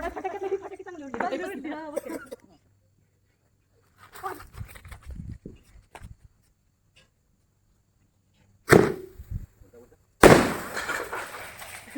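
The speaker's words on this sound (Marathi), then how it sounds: "इथं फटाके वाजायला चालू झालेत आता" A voice speaks briefly, then two sharp firecracker bangs burst out a couple of seconds apart, loud and close, the second followed by crackling, at a Tulsi Vivah festival celebration.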